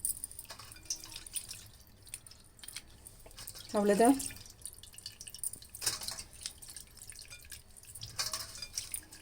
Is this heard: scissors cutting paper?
no